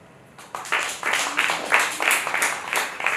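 A small audience at a live comedy show in Moscow breaks into scattered clapping, sparse uneven claps that begin abruptly and continue for a few seconds in a room.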